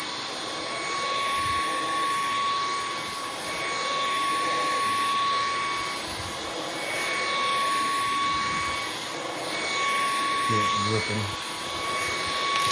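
A Bissell Cleanview XR Pet 300W cordless vacuum cleaner runs on a rug with a loud, steady high-pitched whine and motor hum that rises and dips slightly; a voice speaks briefly.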